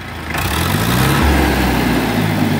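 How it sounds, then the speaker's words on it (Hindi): A DigiTrac PP 51i 60 HP tractor engine revs up from a lower hum into a loud, close, sustained throttled roar with a rising pitch that holds steady, no talking over it. "बहुत ही वधिया किसान वीरो शानदार आवाज़ है ट्रैक्टर की"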